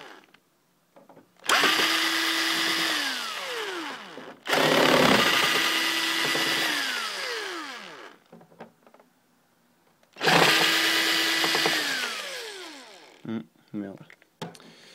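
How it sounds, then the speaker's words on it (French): An electric screwdriver with a bit too small for the screws backs out screws from a PlayStation 3 Slim console. Three separate close, whirring bursts rise and fall in pitch as the motor strains, with short quiet gaps between them. "l'embout de la dévisseuse est trop petit pour les vis, donc c'est ça que ça peine un peu"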